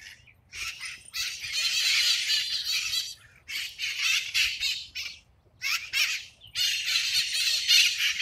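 A flock of wild parrots in California squawks in loud, harsh bursts, several overlapping calls breaking off and starting again with short gaps, close by and with no voices.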